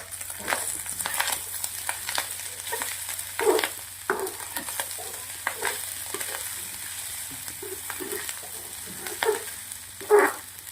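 Maharashtrian aloo rice sizzles quietly in masala in a pan, with a soft continuous frying hiss broken by intermittent spoon scrapes and stirring clatters.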